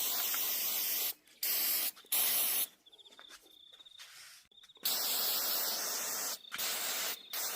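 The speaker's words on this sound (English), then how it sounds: "So I just got normal spray pack degreaser." Aerosol can of degreaser sprayed onto Ford Zetec engine parts in several bursts, each a loud close hiss, with short gaps where faint insect chirps come through.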